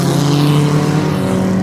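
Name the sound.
race cars racing on track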